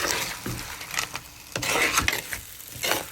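Crab pieces being stirred into masala in a pan for Kerala-style crab curry, a steady scraping and rubbing of the spoon against the pan over a soft sizzle, close and continuous with no talking.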